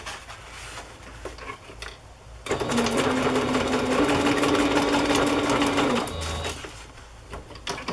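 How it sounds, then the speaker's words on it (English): Steady, close stitching from a sewing machine attaching a fabric cluster to the back of a journal signature, running for about three and a half seconds between quieter page handling. "I'm just going to sew another cluster on the back side"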